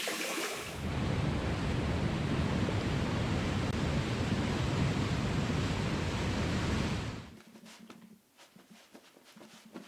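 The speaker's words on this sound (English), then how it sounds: "All right, let's rinse off." Water runs steadily from a tap for rinsing after a shave, a loud continuous hiss lasting about six seconds before shutting off, followed by quieter handling sounds.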